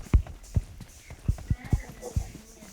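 Horse hooves clop in the PUBG video game, six or so distinct thudding steps in an uneven gallop rhythm, fairly close and alone over quiet game ambience.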